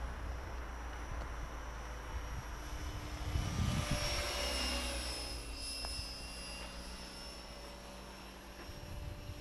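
A Golden Lion 550 radio-controlled model helicopter flies with a steady turbine-like whine that swells and falls back slightly mid-flight, heard from a moderate distance with no talking.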